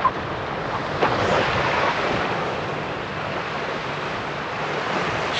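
Strong side wind gusts across the microphone on a surf beach while fishing for garfish, a steady broadband roar with breaking waves beneath and a sharper gust near the start.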